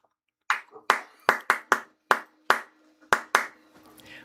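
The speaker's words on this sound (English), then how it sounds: "Got some claps for Titus up in the booth" Roughly ten sharp hand claps at an irregular, unhurried pace from a small group of fans up in the booth at a Legends vs Merchants baseball game, fairly close, with faint murmur between claps.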